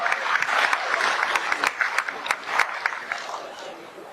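An indoor audience claps to welcome a speaker to the stage. The dense, close applause holds steady, then gradually thins and fades over a few seconds.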